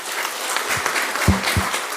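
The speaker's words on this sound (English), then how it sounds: "So a big hand to all the people who have assembled on the stage." Conference audience applauds people assembled on stage, a dense burst of clapping with a few sharper individual claps standing out.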